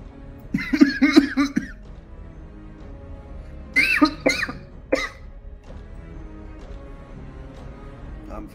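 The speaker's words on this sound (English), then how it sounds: "It's just a cough." A person coughs in a few bursts, a cluster near the start and another pair midway, then a quieter stretch with low room noise.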